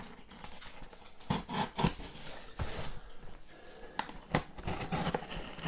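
A Spyderco PR29 lightweight knife slices open a postal package, giving soft, close scratchy cuts and crinkling rustles in short irregular bursts against a quiet background.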